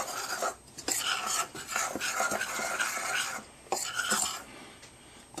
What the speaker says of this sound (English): Go ahead and dump your salt in. Give that just a little mix up.